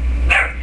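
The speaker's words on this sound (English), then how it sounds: "I have a dog barking in the background" A dog barks once in the background indoors, a single short muffled bark over a low steady hum.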